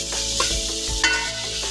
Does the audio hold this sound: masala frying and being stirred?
yes